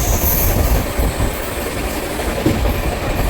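LTT Sitapur Express 12107 rolling slowly, heard from inside a sleeper class coach: a steady, close rumble with soft wheel clatter throughout.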